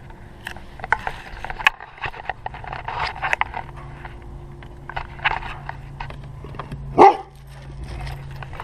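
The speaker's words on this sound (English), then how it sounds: "the reason my dog is barking" A dog barks in short sharp bursts, with one louder close bark near the end, over a low hum and light handling noise.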